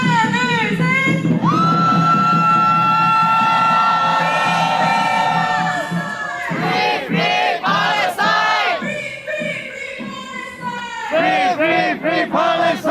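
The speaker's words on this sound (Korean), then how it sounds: "연대 함성 질러보겠습니다" Crowd of protest marchers in a Palestine solidarity rally lets out a long, loud collective shout, held for several seconds, then breaks into bursts of cheering and whooping voices with short pauses between.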